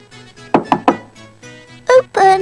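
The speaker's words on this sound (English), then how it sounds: "there was a knock at the door." A quick series of three sharp knocks on a door, followed by a musical or voiced flourish in a children's story setting.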